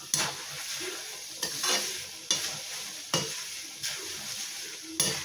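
Ingredients for murmure chivada (puffed rice snack) frying in a pan, a steady close sizzle broken by about seven sharp stirring scrapes at a loose, even rhythm, with no voices.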